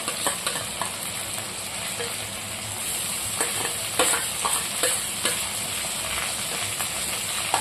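A spatula scrapes and stirs a ginger, green chilli and garlic paste into softened, frying tomatoes for a Bengali curry, with a steady oil sizzle under repeated close scraping strokes.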